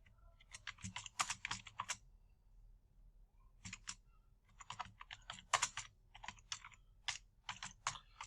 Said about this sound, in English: Suppose I type my question here and I write the answers.